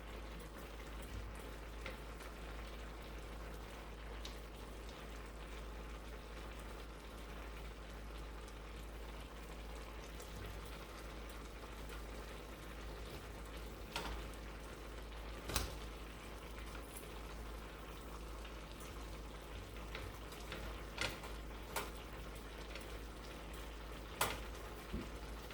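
A pot of black-eyed peas with green onions boils steadily, giving a soft continuous bubbling hiss and a low rumble, with a few faint pops and clicks scattered through it.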